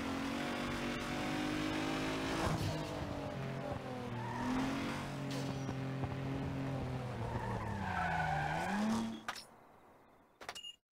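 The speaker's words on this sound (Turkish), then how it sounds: "Hadi drift yapalım." An SUV drifts in Need for Speed Underground 2, with loud continuous tire squeal and skidding over a revving engine whose pitch rises and falls, ending abruptly with a few short clicks.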